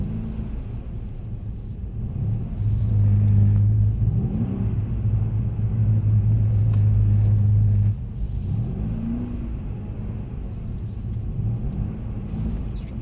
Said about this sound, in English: let's just get a little mini drift in first